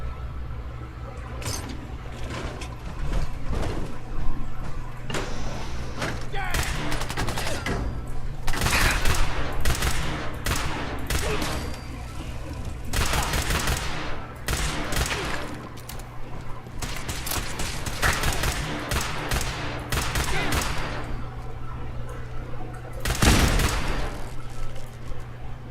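Fallout 4 gunfire rattling in dense bursts and rapid single shots, with machine-gun volleys and sharp cracks repeating loud and close over a low steady hum.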